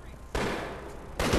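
Gunfire in the video game APB while shooting at people: two sharp, loud bursts of shots close by, separated by a brief quieter gap.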